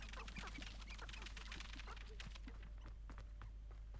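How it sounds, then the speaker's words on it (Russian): A chicken clucks in the video game Hogwarts Legacy: short, soft bird calls repeat irregularly over a steady low game ambience, with faint footstep-like taps mixed in. "курочка."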